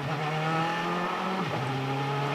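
An IndyCar race car sponsored by Dollar General comes down pit road, its engine droning loudly and steadily, then dropping sharply in pitch as it slows before settling back to a steady note.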